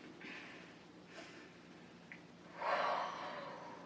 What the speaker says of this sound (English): you kind of take a deep breath and you just let it out kind of hard through your mouth